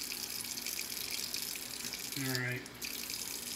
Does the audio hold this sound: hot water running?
yes